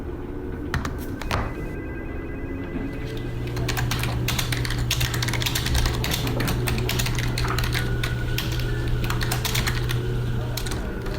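Rapid, uneven clatter of keyboard typing in the FMV horror game Morph Girl, close and clear over a steady low electronic hum, with bursts of keystrokes separated by short pauses.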